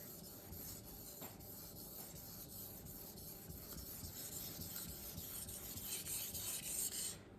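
A VG-10 Tojiro DP 170mm santoku knife is drawn across a Naniwa Pro/Chosera whetstone in quiet, continuous rasping strokes that grow slightly louder toward the end.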